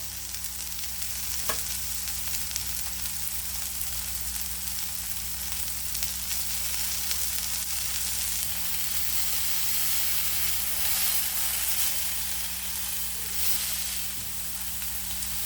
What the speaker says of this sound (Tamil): நம்மளுடைய காணாங்கத்த மீன் ஃப்ரை ரெடி ஆகிடுச்சு ஸோ இந்த இடத்தையும் நல்லா இப்படி பிடிச்சி இப்படி ஃப்ரை பண்ணிக்கலாம்